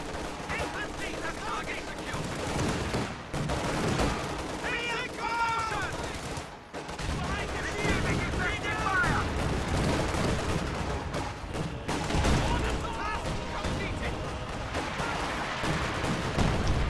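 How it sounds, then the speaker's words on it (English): In a Company of Heroes match, a Priest self-propelled artillery piece bombards an enemy squad. Repeated booming artillery impacts and scattered gunfire crackle through a busy battle mix, with a commentator talking over it. "Priest bombarding the Lux and Sturmpio squad."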